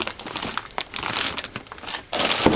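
Paper wrapping crinkles and rustles up close as parts are unpacked, in irregular bursts of crackling that grow busier toward the end.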